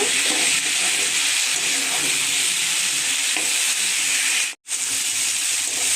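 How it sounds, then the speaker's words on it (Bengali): Young jackfruit and potato are stirred into spices frying in oil: a close, continuous loud sizzle and hiss with scraping stirs, broken by one brief silence near the end. "এখন আমি দিয়ে দিচ্ছি এঁচোড় আর আলু। মশলার সাথে মাখিয়ে নেব।"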